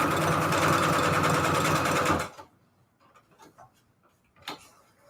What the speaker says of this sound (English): Why is my bobbin rattling so much?